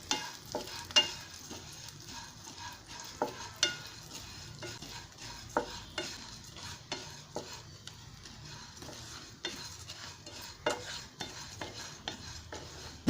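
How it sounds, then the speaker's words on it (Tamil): Thick poha is dry-roasted in a pan while being stirred, a quiet dry rustle punctuated by frequent sharp scraping and tapping strokes from a spoon against the pan, evenly spaced over several seconds. "அதுலேயே நீங்கள் இந்த கெட்டி அவலில் போட்டு ஒரு 2 நிமிஷம் நீங்கள் வறுத்தீங்கன்னா போதும்"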